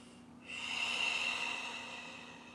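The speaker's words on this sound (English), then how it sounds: "Nice, powerful, purifying breaths." A single strong, sustained breath during a beginners' yoga class, rising after a quiet half second and easing off slowly, close and alone with no talking.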